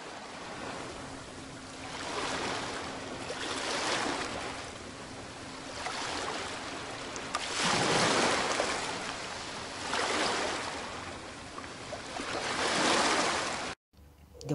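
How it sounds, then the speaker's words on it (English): Ocean waves surge and wash in repeated swells, a broad hissing roar that rises and falls every few seconds, fairly close, with no talk. "She watches the water and the waves."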